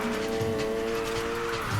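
Car drifting in Need for Speed Heat: a steady, droning engine note with a sustained tire squeal running throughout, close and fairly loud.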